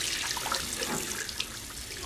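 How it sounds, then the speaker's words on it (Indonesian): Tap water runs into a glass in a bathroom, a steady close splashing gush with small drips and no talking. "Abe mengisi gelas dengan air keran"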